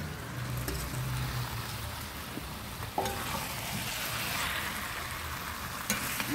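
Chicken pieces tossed into hot, spice-fried masala in a pan, setting off a steady close sizzle and frying crackle with occasional stirring scrapes and clinks, no voices.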